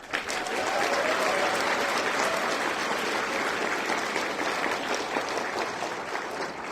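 A banquet audience at PaizoCon 2016 applauds staff teams with steady, dense clapping that stays loud and even for several seconds, with no talk on top.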